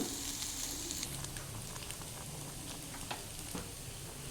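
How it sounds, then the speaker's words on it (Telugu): Chopped vegetables and pre-fried egg sizzle in a pan for egg noodles, making a soft, steady frying hiss with faint scattered pops, quiet and uninterrupted. "వెజిటబుల్స్ వేగిన తర్వాత మనం ముందుగా వేయించి పెట్టుకున్న ఎగ్ని కూడా వేసేసుకుంటున్నాను నేను"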